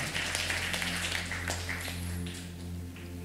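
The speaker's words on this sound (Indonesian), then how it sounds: "Tepuk tangan buat Tuhan Allah kita" A church congregation claps for God during a sermon, a dense, even wash of hand claps over a sustained keyboard drone that thins out toward the end, with no voices.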